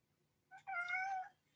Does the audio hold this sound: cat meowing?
yes